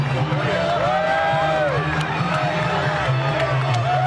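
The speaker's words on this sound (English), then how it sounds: "Look at the crowd, folks. Nothing but pure electricity." Loud boxing arena crowd at Mayweather vs. De La Hoya, a steady roar of cheering and babble with a few sharp claps, under a commentator talking throughout.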